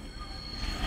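A Class 142 Northern diesel unit pulls into a station with a loud rumble and a faint wheel squeal, heard close and without talk for a brief moment.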